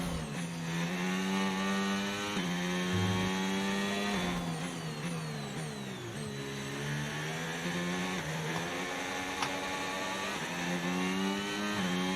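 A Formula 1 car engine screams through a qualifying lap in the racing game F1 25, holding a loud, continuous high whine that climbs through the gears with brief drops at each shift, close and alone.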